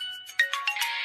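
A mobile phone plays a melodic ringtone of bright, chiming notes in quick succession at moderate volume, with no voices over it.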